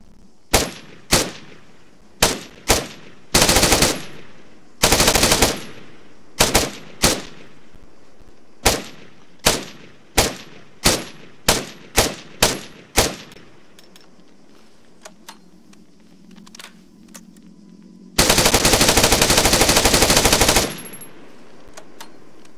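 A video-game 5.45mm rifle from an Israel Defense Forces mod fires sharp single shots and short bursts in an uneven rhythm, then pauses under a low hum before one long sustained burst.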